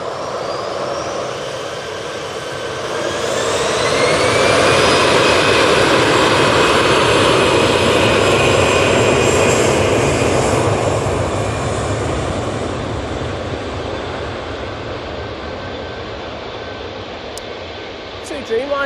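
A TUI Dreamliner airliner comes in to land at Manchester Airport, its jet engine roar swelling loud and broad as it passes close, then slowly fading with a descending whine, while a voice talks.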